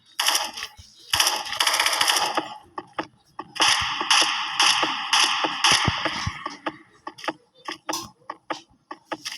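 Gatling gun fire in a video game: long sustained rapid-fire bursts at close range, dense and loud, broken by pauses, then giving way to scattered shorter shots and clicks near the end, with no talk over it.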